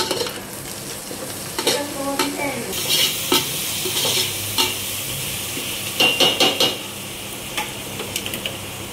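A spoon stirs salt into a sizzling vegetable biryani mixture in a pan, with a steady frying hiss under intermittent scraping and clinking strokes against the pot.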